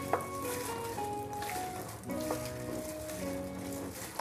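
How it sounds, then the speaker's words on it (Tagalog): Chicken wings being stirred with seasoning and black pepper in a small bowl, heard as soft, steady scraping and mixing under a faint background hiss. "Lagyan na natin ng seasoning, black pepper, at hahaluin natin to."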